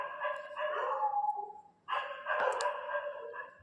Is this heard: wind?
no